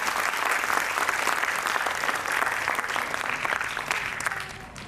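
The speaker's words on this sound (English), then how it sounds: "May I request you all to give out another round of applause" A large audience at an award ceremony applauds, a loud, dense and steady wash of clapping that holds for several seconds and then begins to thin out slightly.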